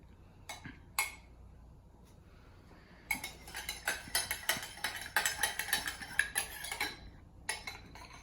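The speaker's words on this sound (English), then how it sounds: "I'm just gonna do the very simple spoon over" A spoon scrapes and clinks against a plate while sauce is ladled over braised short ribs: a couple of light taps, a pause, then a rapid run of close, soft metallic clicks and scrapes, with no talking.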